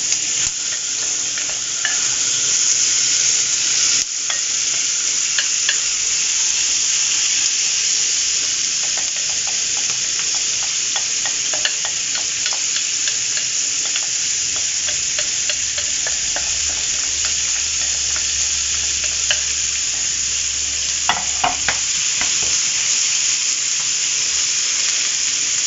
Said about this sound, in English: So I'll stir fry this, turning it over every now and then.